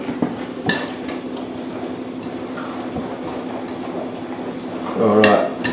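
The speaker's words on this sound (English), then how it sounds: "Give that a stir." A utensil stirs guacamole in a bowl, scraping and clinking softly against the sides, with a couple of sharper knocks and a brief louder clatter near the end, all close to the microphone.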